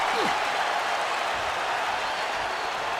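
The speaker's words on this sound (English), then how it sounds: "The sound of this crowd is deafening, and he's asking for more." A packed arena crowd in the WWE 2K24 wrestling game roars during a steel cage match, a loud, steady wall of cheering and applause that holds for the whole stretch without a break.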